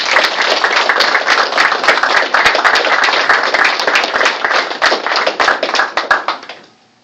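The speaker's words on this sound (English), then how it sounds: "Please, a nice round of applause for Leo Thalassides." Audience at a Florida hall of fame induction ceremony breaks into loud, close applause, dense clapping that holds steady for about six seconds before fading out quickly.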